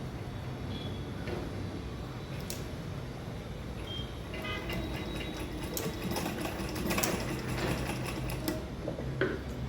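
Sewing machine stitching fabric and lining for a handbag, a fairly quiet continuous mechanical whir with rapid ticking needle strokes throughout.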